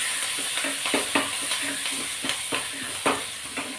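Onion and curry leaves tempering in a pan of oil while sambar is cooked, a steady close sizzle broken by several sharp stirring scrapes and clinks at irregular intervals.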